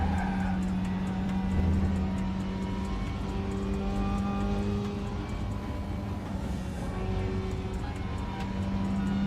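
A race car in the RaceRoom racing game drones steadily with its engine tone shifting under braking, a continuous loud whine with harmonics sliding downward, and no pauses.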